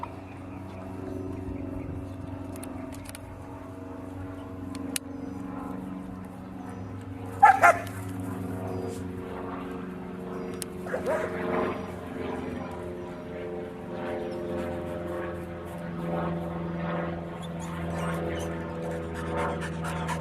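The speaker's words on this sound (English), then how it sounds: "This bark is a vocalization coyotes make as a distress call." A coyote's distress barking in the open: sparse, faint yips and barks spread over a low steady hum and background rumble, with one sharper call partway through.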